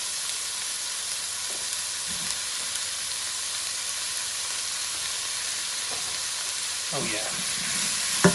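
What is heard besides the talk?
cherry tomatoes and rosemary frying in a pan, tossed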